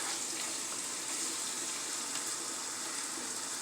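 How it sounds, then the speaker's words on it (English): Onions sautéing in a hot pan for a rice and oxtail stew, a steady, even broadband sizzle with no breaks and no talk. "as the onions is sauteing"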